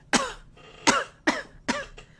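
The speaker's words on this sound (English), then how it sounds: "Why do I suddenly cough?" A single person coughs four times in a row, with the sharp, close bursts spaced roughly half a second apart and brief quiet between them.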